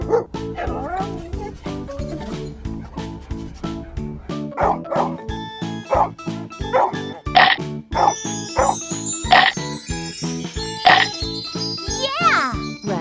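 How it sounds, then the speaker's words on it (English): A dog barks several times in short yips amid a busy children's soundtrack with bright jingling tones, a voice and music, the barks moderately loud and spaced irregularly across the mix. "Dog."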